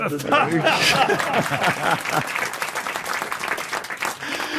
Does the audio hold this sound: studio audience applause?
yes